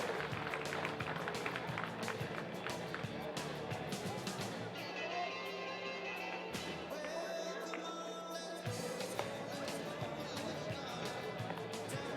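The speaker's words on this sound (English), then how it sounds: "One more round of applause for Olivia tonight in the Allaire Homes Shuffle" Crowd applause and cheering ring out at a Moose Jaw Miller Express versus Gulls summer baseball game, a steady wash of clapping and crowd noise with voices mixed in throughout.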